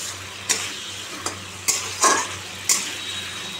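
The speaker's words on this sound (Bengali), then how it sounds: "আমি এখন করছি ডিমের কষা" Eggs frying in a pan for a Bengali egg curry with potato, onion, green chilli and tomato: a soft steady sizzle with several sharp spoon scrapes and stirring clinks against the pan, close and fairly quiet.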